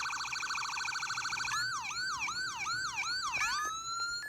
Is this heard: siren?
yes